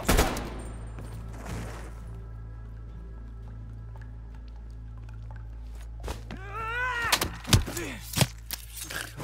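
Gunfire in Call of Duty: Black Ops Cold War, where a quiet stretch of low ambience gives way to a cluster of sharp, loud shots and bursts in the final few seconds.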